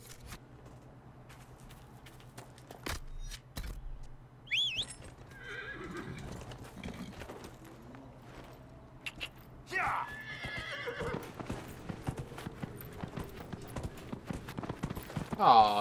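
A horse in the video game Dragon Age Inquisition clip-clops along at speed, with a couple of sharp neighs and whinnies over a quiet game background, with brief talk in between.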